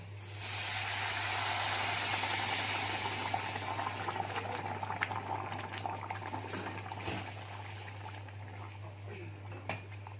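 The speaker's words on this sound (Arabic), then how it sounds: "هنزل فيه بمقدار الميه، بس الميه تكون سخنه" Hot water is poured into a pot of rice with onions for biryani: a loud, close rushing pour for a few seconds, then a quieter hiss and bubbling. No one speaks.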